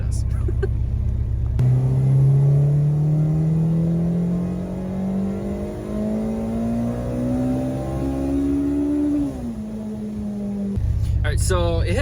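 A K-swapped Mini Cooper engine winds up in a long, rising pull toward 8,800 RPM, its whine climbing steadily for several seconds before dropping back, with loud rumbling before and after.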